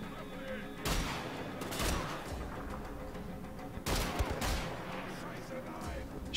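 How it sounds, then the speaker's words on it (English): In Wolfenstein: The Old Blood, shotgun blasts go off in a few heavy, sharp bursts spaced apart amid game noise, with a voice talking over the firefight. "Oh shit, shotguns."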